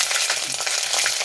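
Garlic ginger paste dropped into hot oil with spluttering mustard seeds for a Kerala fish curry, a loud, close, continuous crackling sizzle, brief and without speech.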